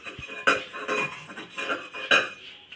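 A brass lamp is scrubbed clean with tomato, making close, irregular metallic scraping and clinking in short bursts with a few sharper knocks. No speech is heard.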